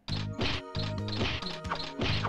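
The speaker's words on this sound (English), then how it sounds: "that's a punching sound effect." Cartoonish punching impacts from the Tail Concerto video game, a run of loud repeated thwacks in quick, uneven rhythm over game music, with no one talking.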